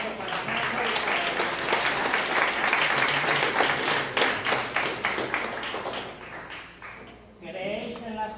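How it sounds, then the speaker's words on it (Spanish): Audience at a live ufology conference session applauds a speaker's introduction, steady dense clapping that fills the room for several seconds before tapering off into a short spoken remark. "un fuerte aplauso para Nando"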